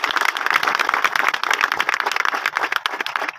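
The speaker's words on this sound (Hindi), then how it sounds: "मनोज पाटीदार जी के लिए फिर से एक बार जोरदार तालियां" A crowd applauds at the inauguration of the MCL MCOAL project in Mohan Badodiya, Shajapur district: loud, steady, dense clapping that fills the whole stretch with no pauses.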